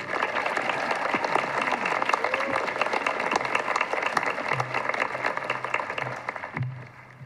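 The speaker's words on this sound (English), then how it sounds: "I ask for a big round of applause for this year's valedictorian, Miss Maddie Hopkins." A graduation audience claps in sustained, dense applause that stays strong and even before tapering toward the end, with a faint low tone at the close.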